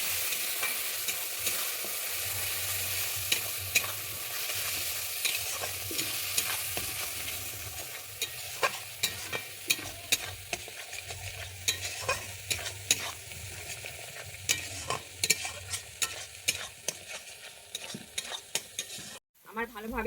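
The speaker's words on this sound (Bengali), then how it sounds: "ওইটা দিয়ে দিচ্ছি আমি এটাকে দিয়ে ভালোভাবে কষিয়ে নিচ্ছি" Ginger stir-fried with rice and a paste of ground nuts and tomato in a pan for a Bengali vegetarian sola kochu curry: a steady oily sizzle with repeated sharp spatula scrapes and clatters throughout, close and clear, no talking.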